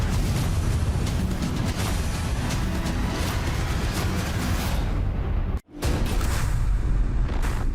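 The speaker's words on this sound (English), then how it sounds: "Cue the explosion." A sustained roaring blast from a film-set explosion for a Fast X car stunt, loud and dense for several seconds, cutting out briefly before the rumble resumes.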